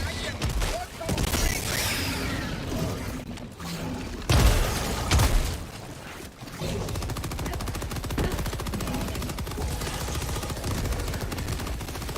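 Gunfire and explosions during a Helldivers 2 bug mission, with rapid automatic shots rattling continuously and a heavier blast standing out midway, dense and loud throughout.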